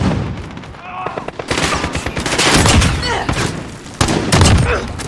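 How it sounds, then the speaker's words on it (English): 725 over-under double-barrel shotgun firing in Call of Duty: Modern Warfare, loud booming shots amid dense surrounding gunfire and combat noise, with a voice talking faintly in the mix. "So this is the 725. The over and under barrel shotgun."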